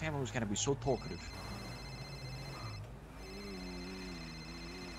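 A phone rings in the game GTA 5. After someone speaks briefly, a steady electronic ringtone plays at moderate volume.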